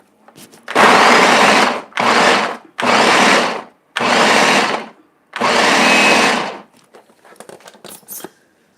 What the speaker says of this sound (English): then I'm going to kind of grind these. So it might get a little bit noisy.